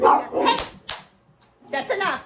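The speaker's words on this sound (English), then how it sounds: "Sorry for the dogs barking." A dog barks in a few sharp bursts, close by, at a running bread maker, while a person speaks firmly over and between the barks.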